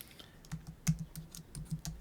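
Soft, irregular clicks of a computer keyboard being typed on, a burst of keystrokes with short gaps between them, quiet and close, with no talking.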